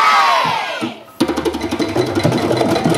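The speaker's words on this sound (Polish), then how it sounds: "Teraz zamiast cisza to krzyczymy głośno." A crowd of children shouts loudly together after a short pause, a burst of massed young voices yelling at full volume, following a musical count-in at a children's show.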